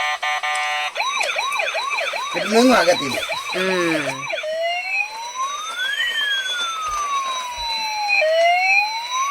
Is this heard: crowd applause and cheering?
no